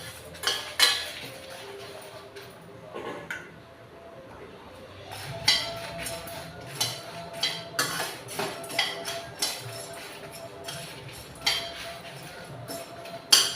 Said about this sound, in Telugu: ఇవన్నీ సిమ్లో పెట్టి దోరగా వేయించుకోవాలి.